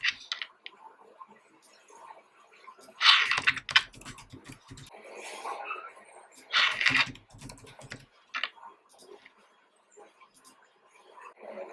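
Sporadic keystrokes on a computer keyboard come in short clusters of clicks, fairly quiet and close, with gaps of near silence between bursts, while JavaScript code is written.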